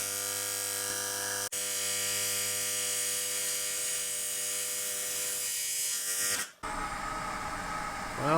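Welding a crack in the windows of an engine cylinder head, a steady, close electric buzz that runs for several seconds, cuts off abruptly, then gives way to a rougher crackling noise.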